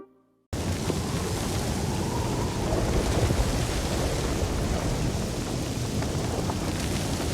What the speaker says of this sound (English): Oh, and did I mention a storm rolling in?